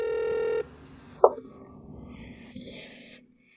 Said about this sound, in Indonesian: Aneh, kenapa Chai Fan tidak angkat telepon?